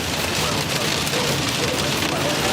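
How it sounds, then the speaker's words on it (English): Hail and heavy rain pound a vehicle during a British storm chase, a dense, loud, steady roar of impacts with a few sharper thuds, continuous throughout. "Get out of the hail."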